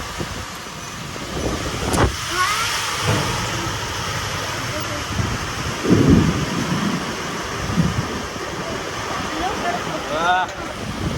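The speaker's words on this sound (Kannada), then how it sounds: "ಸಿಕ್ಕಾಪಟ್ಟೆ ವಜೆ ಐತಿ ಮಳೆ" Heavy rain pours over a farm field with a sharp thunder crack near the start and dull rumbles after, a dense, loud, steady wash with brief voices in the background.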